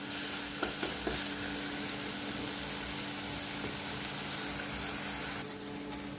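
Masala paste frying over a medium gas flame, a steady broadband sizzle that holds evenly throughout, with a few faint clinks of stirring early on, close and continuous until it drops off near the end.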